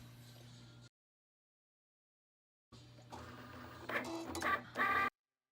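A Cricut cutting machine works a vinyl decal. After a short silence it starts a steady mechanical whir, then gives a few higher whining bursts as the blade carriage moves back and forth, close and fairly quiet.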